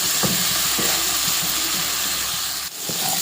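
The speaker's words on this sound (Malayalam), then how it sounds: "വെന്തതായതുകൊണ്ട് കുറച്ച് നേരം വഴറ്റിയാൽ മതി" Cooked jackfruit seeds sautéing in a pan with turmeric and chilli powder give a steady, close sizzle and hiss, with a few soft scraping stirs of a spoon against the pan.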